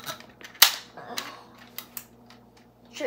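A Nerf foam dart blaster fires once with a sharp snap, followed by a few fainter clicks and knocks of handling in a quiet room.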